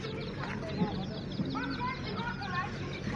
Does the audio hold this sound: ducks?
yes